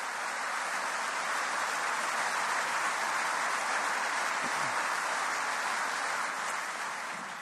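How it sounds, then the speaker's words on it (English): A conference hall audience in Belfast, at a Good Friday Agreement anniversary conference, gives a dense, steady round of applause that fills the room evenly throughout, with no talking. "let's give them all a round of applause"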